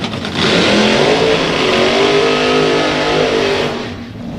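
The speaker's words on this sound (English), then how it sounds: "his first ever burnout in a fuel car" A nitro-burning drag racing fuel car at Santa Pod Raceway roars through a burnout, a loud sustained engine howl with screeching tyres that holds steady for several seconds before easing off.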